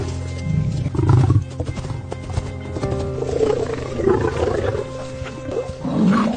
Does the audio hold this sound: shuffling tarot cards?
no